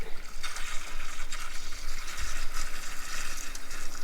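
Water sprays steadily from a pipe or trough fitting just turned on at a cattle ranch, a close, continuous hiss and splash that runs the whole time, with a couple of low thumps.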